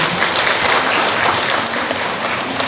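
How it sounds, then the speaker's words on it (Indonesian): A crowd applauds steadily with dense, continuous clapping, loud and even throughout with no speech above it, at a gathering visiting small ceramics businesses in Dinoyo. "Tepuk tangan dulu."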